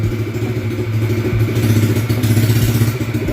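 A 125cc offroad shifter go-kart engine runs steadily in gear in a garage, a close, loud mid-pitched drone with some mechanical clatter, no talking.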